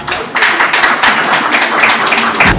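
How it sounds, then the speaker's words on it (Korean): An audience at a Newspim semiconductor forum keynote gives dense, loud applause, with many overlapping claps rising and holding steady after a brief quiet start. "여러분 큰 박수 부탁드립니다."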